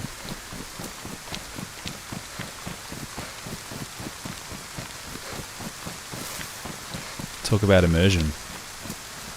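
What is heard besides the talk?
storm with rain and wind rattling things outside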